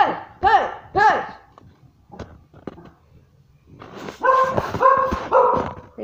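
A dog barks and yips in short bursts, a few sharp barks near the start, then a louder cluster of whiny, high-pitched barks toward the end.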